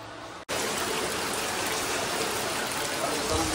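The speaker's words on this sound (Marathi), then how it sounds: "पाऊस चालू झाला आहे" Rain pours steadily at a rural Konkan home, a dense, even hiss that starts abruptly after a brief cut and stays loud and constant throughout.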